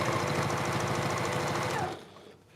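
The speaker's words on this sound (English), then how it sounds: "I let the sewing machine do the work for me, and I take it really slow all the way through" A sewing machine runs steadily while stitching a fabric seam, a fast close rhythmic whirring chatter that stops abruptly near the end, with no voices.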